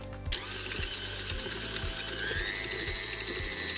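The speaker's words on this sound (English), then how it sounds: "Sugar in, mixer down, and we'll turn that on to cream." Electric stand mixer creaming butter and sugar: the motor starts with a click, then a steady high whirring hum with a regular rhythmic knocking from the beater, close and constant.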